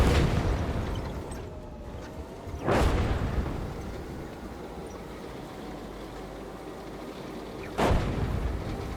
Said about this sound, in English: And it looks like some artillery is coming down.